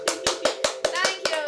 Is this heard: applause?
yes